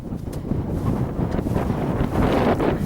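Strong wind buffets the microphone on a Scottish mountain crag, a continuous heavy roar with gusting surges that grows louder toward the end.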